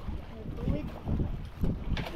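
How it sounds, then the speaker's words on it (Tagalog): Strong wind gusts buffet the microphone out on the water during a fishing trip, a low rumbling roar that swells and fades in bursts, with people talking close by. "Lakas pang hangin."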